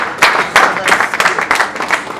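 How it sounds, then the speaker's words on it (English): An audience at a transport conference claps together in a short, loud burst, hands striking in rapid uneven waves that swell and stay close throughout. "Please give Madam CIOTA another round of applause"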